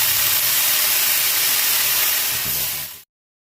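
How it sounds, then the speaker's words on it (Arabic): Steak searing on a hot home grill gives a loud, steady hiss close by, with no talk over it, then cuts off abruptly near the end. "وتاني دلوقتي هنبتدي نشوي اللحمة"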